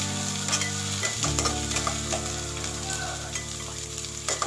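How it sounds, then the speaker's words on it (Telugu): Onions and curry leaves fry in a pan for methi chicken curry, a dense steady sizzle close up with light scraping of a spoon stirring throughout, no voices. "ఇది ఆనియన్స్ గోల్డెన్ బ్రౌన్ వరకు ఫ్రై చేస్తూ ఉండాలి"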